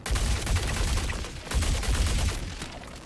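A Fresnel Volt LMG in the game Star Citizen fires a sustained, dense automatic burst, loud and close, with a brief dip in the middle before the fire resumes.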